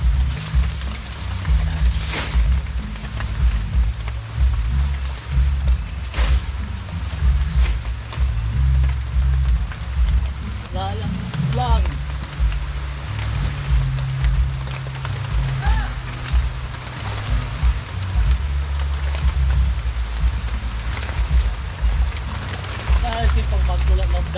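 Heavy typhoon rain in Infanta, Quezon pours steadily with a constant roar and wind, with faint bird-like chirps here and there and no talking.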